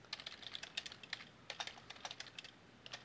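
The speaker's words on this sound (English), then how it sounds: "Nope, just typing wills." Close, quiet typing on a computer keyboard: a quick, uneven run of light key clicks in short bursts with brief pauses, heard alone without speech.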